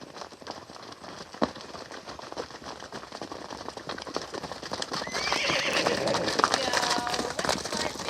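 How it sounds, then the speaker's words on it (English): Young horses run past with thudding hooves, and a whinny rises near the end as the commotion grows louder. "They're about to run the horses down."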